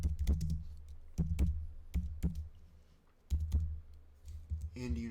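A computer keyboard being typed on: quick close clicking keystrokes in several short bursts with pauses between them, over a low steady hum.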